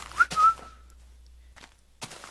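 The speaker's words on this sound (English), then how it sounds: "I've been told that whistling into my mic is a bad idea." A person whistles close into a microphone: a short bright whistled phrase with a rising then level tone, followed by quieter breathy sounds and pauses, alone without talking.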